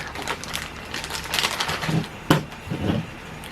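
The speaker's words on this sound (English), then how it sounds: "get the actual mounting bracket out of the plastic bag here" Crinkly rustling and crackling of a plastic bag holding a Sena 50S mounting bracket being handled up close, in irregular bursts with a sharp snap partway through.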